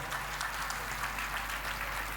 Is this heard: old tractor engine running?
no